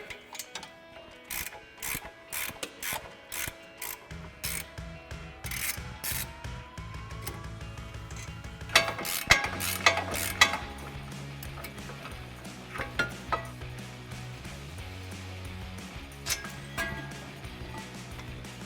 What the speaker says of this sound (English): So we're just going to take those off with our 15mm socket.